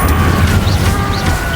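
A loud Incendio fire spell is cast in Hogwarts Legacy, giving a dense, booming rush that fills the whole moment without a break.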